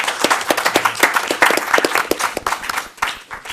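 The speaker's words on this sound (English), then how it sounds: "So let's give a round of applause to the homeowners." A small audience claps at a township council meeting in Franklin Township, New Jersey, with close, sharp individual claps in a lively, uneven patter.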